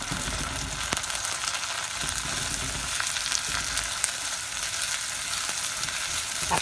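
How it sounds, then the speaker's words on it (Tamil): Chopped tomatoes sauté in a pan for a chicken and brinjal curry, giving a steady, close sizzle with occasional stirring clicks throughout and no talking. "தக்காளி பழம் வெட்டி வச்சுங்கன்னா அதையும் போட்டு வதக்குவோம்"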